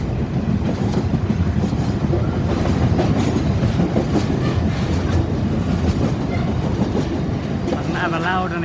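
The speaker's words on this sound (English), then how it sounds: "an ever loudening train goes thundering past" A long freight train thunders past at St Denys, a dense, steady roar of wheels and wagons with clickety-clack rhythm running unbroken throughout, close and loud, with faint wheel squeal near the end.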